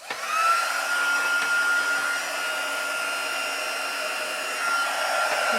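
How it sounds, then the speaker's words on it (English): A craft heat gun blowing hot air over embossing on a papercraft diffuser box, a steady loud whooshing whine with a faint tonal hum, continuous and alone throughout. "grab my heat tool"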